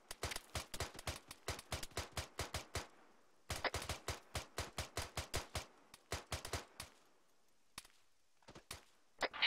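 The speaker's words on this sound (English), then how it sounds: "that is not fucking friendly that's shooting at us" Enemy gunfire in the military shooter Arma 3 cracks out in rapid, evenly spaced bursts of loud single shots, pausing once and then resuming, with a few scattered shots trailing off at the end.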